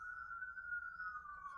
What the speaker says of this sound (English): apologize for the sirens in the back